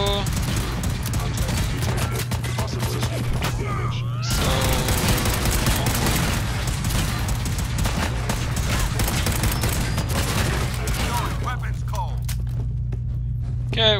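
Dense gunfire roars through a Fallout 4 firefight, a continuous loud barrage of shots and thuds filling the whole stretch, with a voice talking under it.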